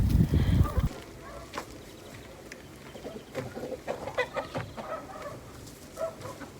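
Hens clucking in a garden, scattered soft clucks at moderate distance after a brief loud burst at the start.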